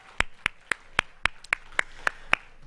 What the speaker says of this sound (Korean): 우리 주님께 한번 영광의 박수 올려드리겠습니다.